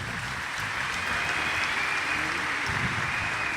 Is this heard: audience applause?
yes